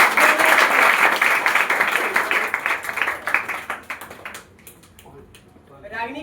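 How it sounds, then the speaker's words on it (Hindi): Audience clapping for a top-scoring intermediate arts student at a coaching centre award ceremony in Karsar, Bihar, loud and dense at first, then thinning and fading out toward the end. "तालियां बजाइए सभी लोग"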